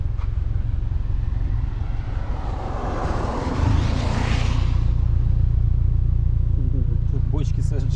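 A turbocharged Subaru Forester SK5 with SJG mufflers sends out a loud, steady low exhaust drone that swells as the engine revs partway through, then settles into a deep, constant rumble.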